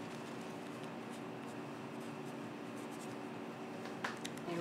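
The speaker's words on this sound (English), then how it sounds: "Now I'll just write a little message on my leaf." A pen writes a short message on a paper leaf from a coffee filter flower craft, a soft continuous scratching close to the mic over a steady room hum, ending with a small tap.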